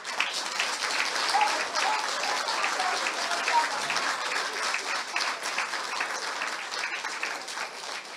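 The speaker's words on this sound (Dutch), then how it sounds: "Maar voor de vrijwilligers wil ik een groot applaus hebben." An audience gives sustained applause for volunteers at a Christmas celebration held by a foundation for blind people, a dense, even clapping that holds for several seconds and tapers slightly toward the end.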